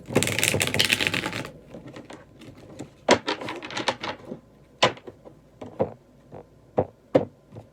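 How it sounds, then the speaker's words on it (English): A rapid riffle of cards flutters for about a second, followed by a series of sharp taps and knocks as the deck is squared up. "I'm just going to give them a good shuffle really quick."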